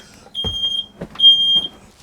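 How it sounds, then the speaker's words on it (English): A home smoke alarm set off by a wood fire gives sharp, piercing electronic beeps in two long bursts, loud and close, with faint thuds in the room between them. "That's my smoke alarm."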